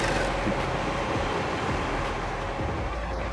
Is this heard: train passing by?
yes